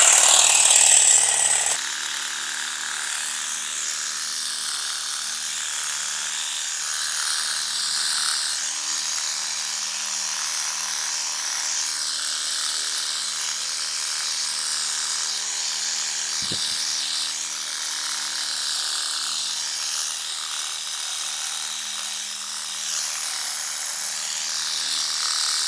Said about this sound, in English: I've got my Ryobi battery operated hedge trimmer. I'm just going to take about 2 to 3 inches off the top of this.